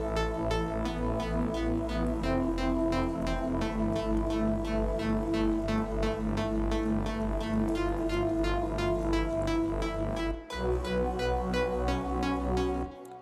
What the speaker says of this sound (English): There's like another one that's super melodic with the arp and it sounds like this.